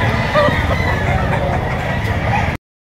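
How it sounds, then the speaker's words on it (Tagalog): Chickens cluck and squawk at a busy outdoor market in Lipa, Batangas, a dense close chorus of fowl calls over crowd murmur that cuts off abruptly. "Napakaganda mga manok"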